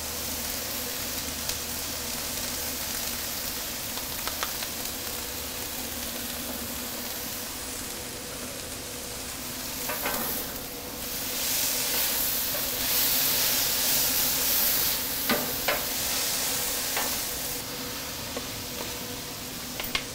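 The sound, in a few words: garlic sizzling on wood-fired Pit Boss grill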